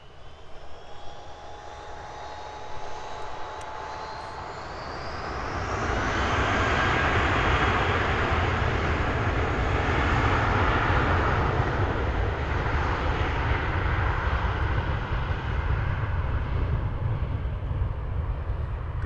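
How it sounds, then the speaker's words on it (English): An Air New Zealand Airbus A320 jet departs Christchurch Airport bound for Auckland, its engine roar swelling from a steady background rumble into a loud, sustained broadband thrust noise that holds through the takeoff run. "Just in time for this gorgeous Air New Zealand A320 departure off to Auckland."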